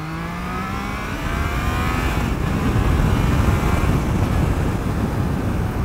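A Triumph Trident motorcycle revs on a road ride, its engine note climbing then settling into a sustained loud roar mixed with heavy wind rush from riding.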